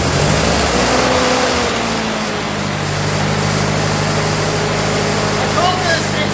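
A 1948 Ford 8N tractor engine cranks and then runs with a steady low rumble and a slight pitch shift, a voice speaking over it near the start.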